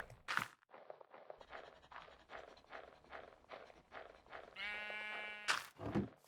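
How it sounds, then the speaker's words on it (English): Minecraft sheep bleating in a video game, several quavering bleats spaced apart with soft footstep-like ticks between them, fairly close and without talking. "Listen here, sheep. Come with me."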